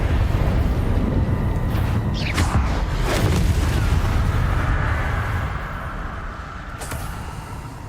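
Spell blasts in the video game Hogwarts Legacy, such as Confringo and Incendio, burst out as loud booming explosions. Rumbling blasts overlap and build, then fade into a lower roar near the end.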